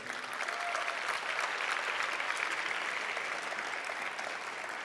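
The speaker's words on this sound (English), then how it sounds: "give a round of applause for those stories that have brought you where you're at today" An audience at a New Mexico education event applauds in a steady, even wash of many hands clapping, sustained at moderate level throughout without a break.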